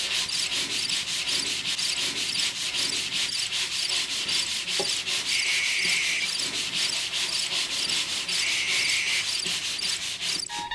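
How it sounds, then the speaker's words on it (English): Rapid, rhythmic rasping of two sanding blocks rubbing back and forth on the wooden sides of a vintage Astor KK radiogram cabinet, close and continuous, with a faint high tone briefly appearing twice. "I've got 2 sanding blocks here, and I'll do the sides."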